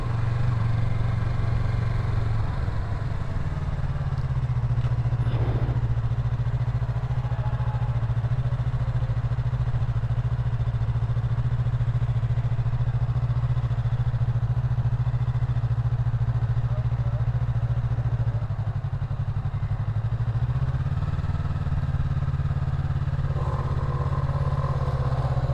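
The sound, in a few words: Yamaha MT03 motorcycle engine while riding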